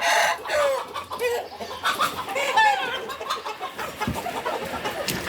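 Chickens being chased cluck and squawk in agitated bursts, with a rooster crowing briefly, over a rustling outdoor background.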